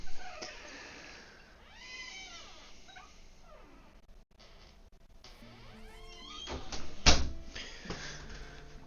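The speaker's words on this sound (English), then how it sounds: "Let me let my cat out." A house cat meows several times, with rising and falling cries that repeat faintly at first and grow louder, and a sharp bang or clatter near the end.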